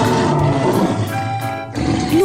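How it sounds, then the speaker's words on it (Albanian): A lion roars in a rough, growling burst, then gives a brief pause and a rising snarl at the end. The roar is loud, close and heard alone. "Luani"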